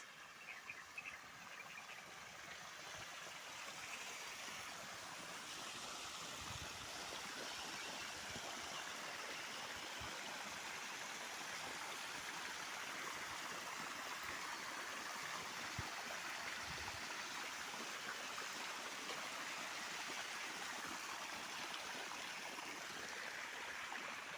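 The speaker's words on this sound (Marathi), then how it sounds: "पाण्याचा खळखळ आवाज" Water gurgles and rushes steadily through a field irrigation channel in a sugarcane farm, a soft continuous burble heard from close by, with no voices.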